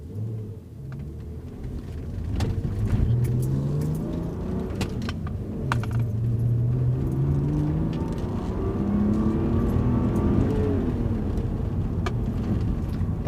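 A naturally aspirated Subaru Legacy Spec B 3.0 H6 estate car accelerating hard uphill, its engine note climbing steadily through the gears with a continuous loud rumble from inside the cabin, a brief dip as it shifts, and faint rattles.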